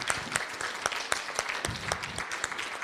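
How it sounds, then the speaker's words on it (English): Steady applause from a crowd, continuous clapping with sharp individual claps standing out, fairly close and lively. "another round of applause for you all"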